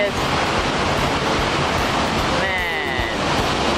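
A large waterfall heard from behind the falling water makes a loud, constant roaring rush that fills the whole clip, with a brief voice faintly audible partway through.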